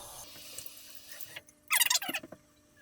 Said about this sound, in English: I'm going to start by rinsing my face off.